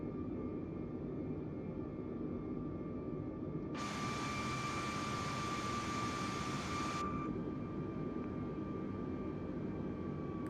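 An Air Canada Airbus A320neo in Black Edition livery flies its approach with flaps set. The steady, dense jet engine roar stays loud throughout, and a brighter hiss swells for a few seconds mid-way before fading back.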